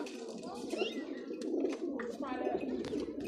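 A female Badam Siri pigeon coos softly in short, throaty phrases, fairly close but quiet, with some faint chirps and background noise.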